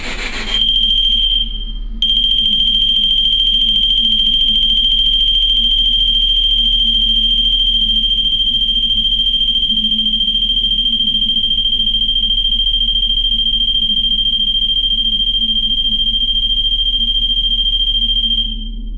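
An electronic ghost-hunting device rings inside the Calais lighthouse during a paranormal investigation, giving a steady, piercing high tone that starts after a brief burst and holds unbroken for many seconds over a low hum.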